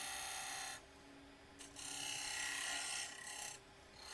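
A detail spindle gouge cuts wood spinning on a lathe, producing a raspy, hissing scrape that comes and goes in short passes over a steady low motor hum.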